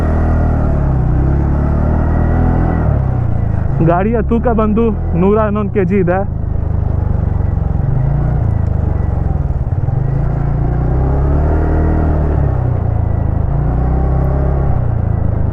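A 2025 TVS Ntorq 125 Race XP, a 125cc sports scooter, gives a steady low engine and exhaust drone while riding, close and constant, under someone talking throughout.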